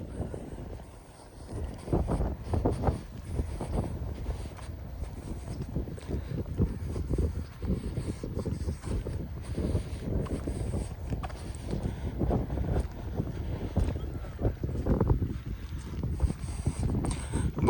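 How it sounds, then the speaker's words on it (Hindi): Strong wind buffets the microphone at a cable-stayed bridge construction site near Mirpur, Azad Kashmir, a loud, continuous low roar with gusty surges throughout and no voices. "हवा जी है ना बहुत तेज़ चली रही है"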